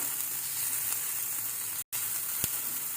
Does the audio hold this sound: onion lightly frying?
yes